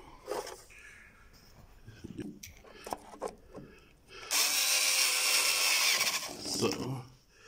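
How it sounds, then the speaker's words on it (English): A power driver whirs steadily for a couple of seconds as screws go back into a Xiaomi Pro 2 electric scooter, after some quieter handling and tapping sounds close by. "then you carefully and close back again, and then put back the screws."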